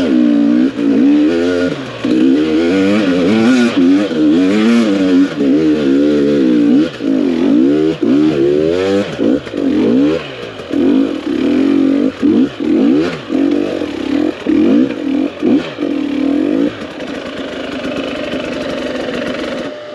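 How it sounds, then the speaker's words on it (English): Engine of a vehicle fitted with a carburetor setup, pulling uphill from a dead stop in second gear, loud and close with wavering revs climbing and dipping, then settling toward a steadier drone near the end. "same hill on the gas, same gear, second gear, and we'll see what the difference in off-idle response is and pull going up this hill from a dead stop"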